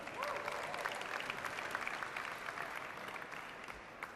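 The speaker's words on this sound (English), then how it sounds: "So give them a big round of applause." Audience applause fills a Creative Commons launch event in Qatar, a steady dense wash of many hands clapping that holds evenly for the full stretch, moderately distant with no clear voices on top.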